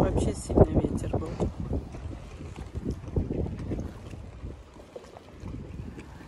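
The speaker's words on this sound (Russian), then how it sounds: "сегодня вообще сильный ветер был" Strong wind on a beach near Matala buffets the microphone in rough, gusting roars, with a voice talking faintly underneath at times.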